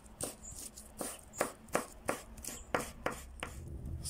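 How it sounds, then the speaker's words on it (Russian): A knife chops basil on a cutting board in a quick series of about eleven crisp, evenly spaced taps, close and fairly quiet, with no talking. "И осталось нам нарезать только базилик."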